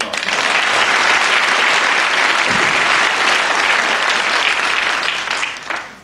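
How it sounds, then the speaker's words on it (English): A studio audience applauds loudly and steadily, dense clapping holding for several seconds before tapering slightly at the end. "Give her a round of applause"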